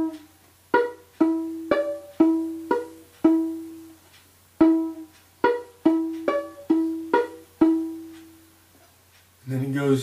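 Solo violin plays the opening part of the reel Drowsy Maggie as a run of about fourteen plucked-sounding notes at an even lively pace, clear and close, with a brief scrape at the end.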